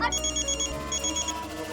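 Telephone ringing with an incoming call, a repeating high electronic ring in two clear bursts, fairly loud and alone with no talk over it.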